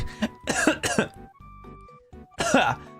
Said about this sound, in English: I'm gonna die of coughing here